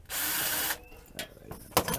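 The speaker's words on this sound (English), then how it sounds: "So I actually is going to use my drill" Handheld power drill spinning out a drain bolt during an oil change on a 2008 Nissan Armada: one short whirring burst up close, then clicks and metallic handling noises.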